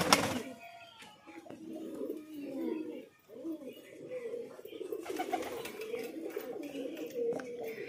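Fancy pigeons in a loft coo in soft, rolling repeated calls close to the microphone, with people talking at times alongside the birds.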